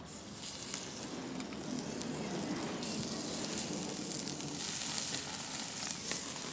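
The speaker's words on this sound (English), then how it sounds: "We put the lamb on the grill." Lamb cooking on an oiled grill gives a steady, soft sizzle and crackle that holds throughout at low level, close by with no talking.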